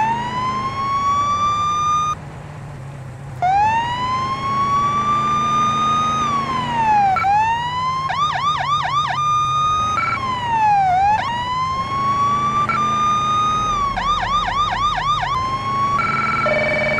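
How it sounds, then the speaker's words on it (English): Police car siren from the video game Police Simulator, loud and close, cycling through long rising and falling wails broken by bursts of rapid yelp, with a brief gap near the start and no talking. "You guys hear the siren on the car"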